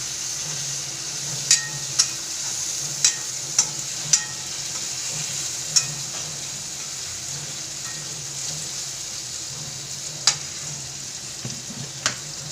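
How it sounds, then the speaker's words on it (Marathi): Mung dal sautéing in a little oil for a drumstick curry, giving a continuous soft frying hiss with scattered sharp ticks and pops from stirring, heard close and without talk. "परतून घ्यायचं थोडंसं तेलामध्ये द्यायचं आणि त्याच्यामध्ये डाळ टाकायची"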